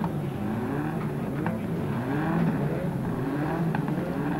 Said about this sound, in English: Engine starting to rev.